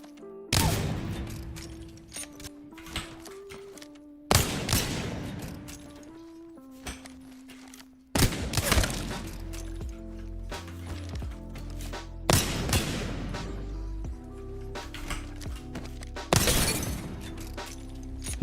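Gunfire strikes targets in the Apex Legends firing range in about five loud, sharp bursts of rapid shots with crashing, breaking impacts, separated by short quieter gaps of mechanical clicks and faint tones.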